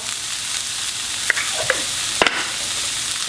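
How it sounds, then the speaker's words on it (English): Half an onion sizzles steadily in a hot pan with a little salt, a constant frying hiss with a few faint clinks and stirring scrapes. "Fry up half an onion, a little bit. Hot pan, a little bit of salt."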